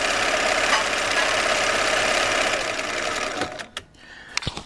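A Bernina 930 sewing machine stitches steadily with a dense, continuous mechanical whir, then slows and stops near the end, leaving a few faint clicks.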